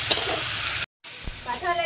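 Fish curry being sautéed in a pan: close, continuous sizzling and stirring that breaks off briefly mid-way, then resumes with scraping strokes.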